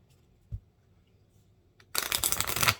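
A quick riffle shuffle of half a deck of small tarot cards, a dense burst of rapid fluttering clicks lasting under a second, close and fairly loud after a soft thump.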